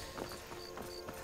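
Horse hooves clip-clop at an even walking pace in the game Skyrim, soft and fairly distant beneath a steady ambient bed of background music and hum.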